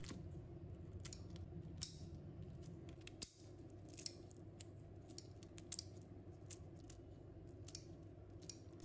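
Scissors snip dried chili peppers into short pieces for a home-style sour and spicy napa cabbage dish, a quiet run of crisp, irregular cuts spread over several seconds with no talking.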